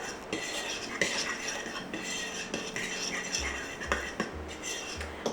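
A utensil scrapes and clinks around a bowl, mixing the dry crust ingredients for a gluten-free, keto cheesecake with a pinch of cinnamon and kosher salt; close, steady scraping with a few sharper taps.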